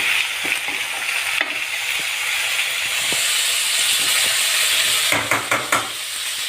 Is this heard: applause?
no